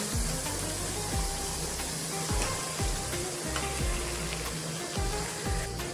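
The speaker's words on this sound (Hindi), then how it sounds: "ये कीमा ऐड कर देंगे।" Minced meat keema with masala sizzles and fries loudly in a pan, a dense steady hiss broken by regular scraping stir strokes roughly every half second, no voices.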